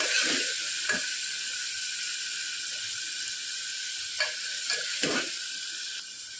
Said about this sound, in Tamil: இப்போ வெங்காயம் தக்காளி கொஞ்சம் வதங்குற ஸ்டேஜில் நல்லா வதங்கட்டும்